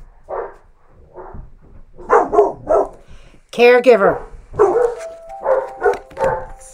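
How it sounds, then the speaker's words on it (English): Two dogs bark at a mailman in sharp, fairly close bursts that break in among the phrases of a person talking, with one loud run of barking standing out near the middle. "both my dogs are going off and barking at the mailman"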